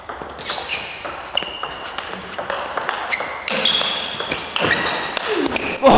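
Table tennis rally at a team knockout tournament, with sharp ball pings off bats and table and a forehand shot among them, heard over crowd noise and voices.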